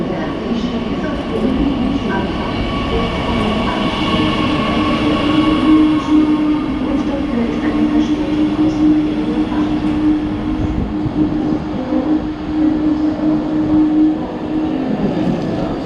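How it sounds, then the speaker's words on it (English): A Class 147 locomotive train rolls steadily into a station, a loud continuous rumble with a faint metallic squeal and rhythmic clatter throughout. "our train today is operated by the class 147 and so-called Dostos, and here we can see it arriving"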